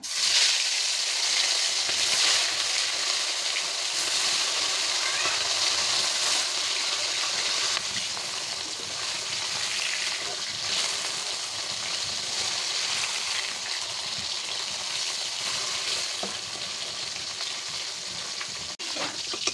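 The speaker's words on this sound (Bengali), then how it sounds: "তো কড়াই গরম হয়ে গেছে, আমি এবার মাছগুলো ভেজে নেব।" Fish fry in hot oil in a kadai over a clay stove, producing a loud, continuous sizzle and crackle that holds steady throughout with no voices.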